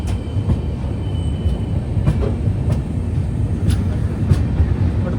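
Sairang Express passenger train rolling across one of India's tallest railway bridges, a steady close rumble of wheels on rails with faint clickety-clack, continuous and alone.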